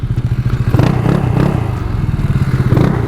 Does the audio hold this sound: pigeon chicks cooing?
no